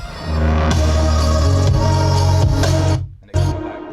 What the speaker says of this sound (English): that gave me like one of the main risers that I use throughout the song.